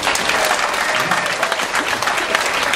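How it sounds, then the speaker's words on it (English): Sustained audience applause at a comedy crowdwork show, greeting a pastor in the crowd; dense, steady clapping from many hands fills the room without a break for the whole stretch. "Give him a round of applause"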